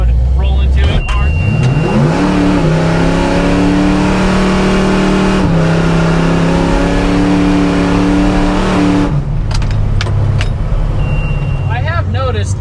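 A supercharged Chevy LUV engine roars as it accelerates hard, rising in pitch through the gears and holding a loud, steady drone before easing off, recorded close from inside.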